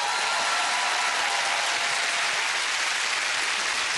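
Studio audience at the family game show All Star Family Fortunes applauding loudly and steadily, a dense, continuous wash of clapping with no voices over it.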